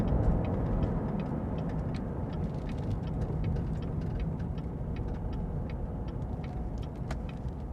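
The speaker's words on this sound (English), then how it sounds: "Right turn signal's on." Steady clicking of a 2018 Chevrolet Corvette's turn signal over a low idling engine rumble, evenly paced and continuous throughout.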